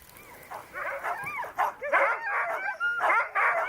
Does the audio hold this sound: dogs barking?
yes